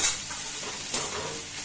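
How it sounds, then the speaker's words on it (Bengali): Prawn heads frying in a pan, cooked slowly until deep red: a steady soft sizzle and hiss with a brief stirring scrape, fairly close and quiet, without any voices. "এইভাবে সুন্দর করে ভেজে নিচ্ছি, বেশ লাল লাল করে"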